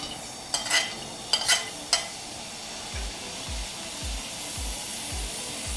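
Ginger dropped into hot sesame oil in a pan, a few sharp crackling spits and clatters at first, then a soft steady sizzle with faint low thumps at regular intervals, close by.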